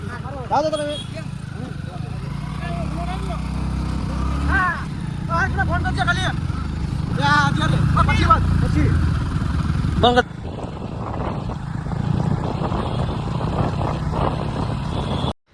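A motorcycle engine hums continuously beneath people talking throughout, the ride's steady drone rising and easing while voices chatter over it on the way to Ratneshwar Mahadev temple.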